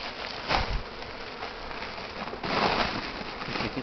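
Honeybees hum around a hive in a dense, continuous drone close by, the buzzing swelling briefly louder twice as insects pass near.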